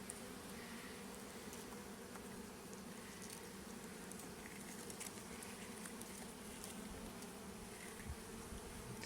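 A steady, low hum of many honeybees buzzing continuously on a hive in early spring, quiet and close, with faint rustling and no voices.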